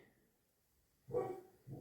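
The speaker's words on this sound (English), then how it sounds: "my dogs are barking" Dogs give two short, muffled barks after a quiet stretch, faint and somewhat distant.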